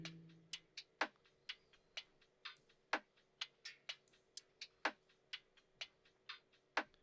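A sparse percussion loop in Logic Pro, played without EQ, of short clicky hits in an irregular rhythm over a faint low hum, fairly quiet and unprocessed, with no voices.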